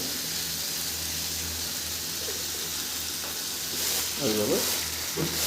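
Cow brain pieces going into cooked-down masala in a hot pan, a steady close sizzle that grows louder, with a few sharper scraping stirs near the end and a faint voice in the background.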